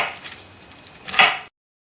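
A sharp kitchen knife cuts through a green capsicum for a cherry tomato salsa, giving a faint scrape followed by one crisp, louder chop against the board before everything stops.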